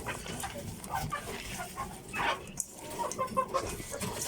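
Chickens cluck and murmur close by in a busy barnyard as they eat dog food, with scratchy rustling and a brief sharp tap in the middle.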